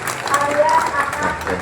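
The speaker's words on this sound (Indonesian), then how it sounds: "Kita tepuk tangan dulu" A crowd of students claps at a Monday school flag ceremony, a brief burst of scattered applause with voices talking over it.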